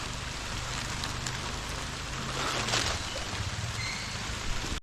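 Rain falls steadily in a garden of pruned plants, a constant soft hiss of drops on surfaces with a few brief louder patters.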